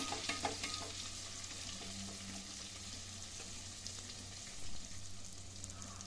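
Fish fries in a pan just after being flipped, giving a steady close sizzle and crackle with faint stirring scrapes and no talk.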